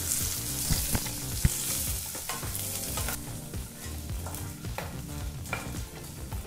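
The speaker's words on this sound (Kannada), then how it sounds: "3 ರಿಂದ 4 ನಿಮಿಷ ಇದನ್ನೆಲ್ಲ ಚೆನ್ನಾಗಿ ಫ್ರೈ ಮಾಡ್ಕೋಬೇಕಾಗತ್ತೆ" Tamarind, mint and peanuts fry together in a pan over low to medium flame for chutney, giving a continuous crackling sizzle with scraping stirs and sharp pops, close and loud, with no voices.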